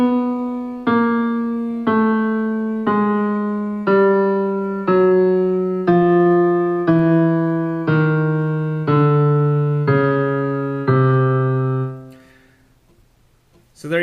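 Piano sounding twelve separate notes one after another in a steady, evenly spaced descending chromatic line, each note ringing until the next, then stopping, with no talking.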